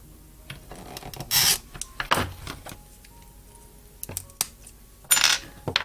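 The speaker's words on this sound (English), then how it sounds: "scoring this and cutting it, and hopefully I'll do it nice and straight." Scoring glass with a glass cutter while making a fused glass pendant: several short, sharp scraping and clicking strokes, close and fairly loud, separated by quiet pauses, with no talking.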